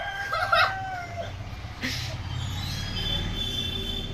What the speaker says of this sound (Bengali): মোরগগুলো সারাক্ষণ ডাকছে, দিন নেই রাত নেই